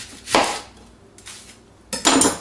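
A knife slices through an onion on a cutting board for a shrimp and bulgur wheat summer salad, giving two crisp cutting strokes with a short pause between them, close and clear with no voices.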